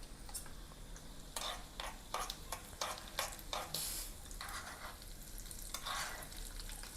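A spoonful each of urad dal, mustard seeds and cumin sizzles in a spoon of hot oil. A close, continuous crackle is broken by bursts of sharp popping and stirring taps.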